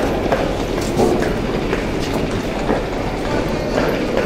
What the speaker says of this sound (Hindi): हमारी ट्रेन जो है वो यही है, हावड़ा कालका नेताजी एक्सप्रेस।